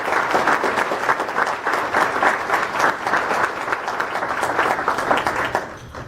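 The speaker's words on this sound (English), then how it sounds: "Can we please give a round of applause for my personal hero" A banquet audience at a farm animal sanctuary event in Ann Arbor, Michigan, gives the speaker's mom a full round of applause, dense and sustained clapping that tapers off near the end.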